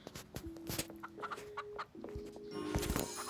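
Video game chickens cluck and chatter repeatedly in short bursts, close by, with a few higher squawks mixed in.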